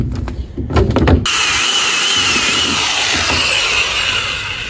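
Power drill driving a screw into wood for a garden upgrade: brief taps, then a loud, steady whining motor run that continues close by for several seconds.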